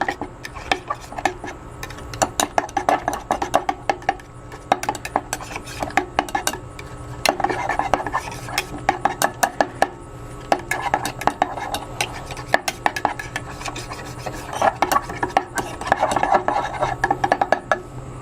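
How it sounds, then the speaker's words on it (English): A spoon clinks and scrapes steadily around a bowl as fried pickle sauce is mixed by hand, giving a quiet, continuous rhythm of light taps and rubbing with no speech. "Just mix all this up."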